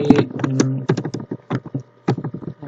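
Typing on a computer keyboard while writing a Python program: close, crisp key clicks in quick irregular runs with brief pauses between bursts.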